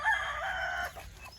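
Free-range country chickens on a farm plantation call out in a single loud, drawn-out crow-like cluck lasting under a second, then the yard falls to a quieter murmur.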